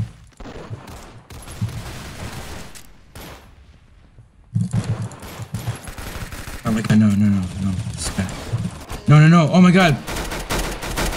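Gunfire in the video game Arsenal comes in rapid bursts, loudest toward the end, over game effects, while a player talks and exclaims throughout.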